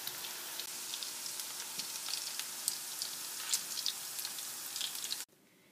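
Meatballs sizzle and crackle steadily frying in hot oil, with scattered pops, until the sound cuts off abruptly near the end.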